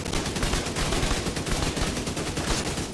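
Rapid automatic gunfire in a shooter video game while shooting at elite enemies with headshots, a dense continuous burst of shots, loud and close, with no speech.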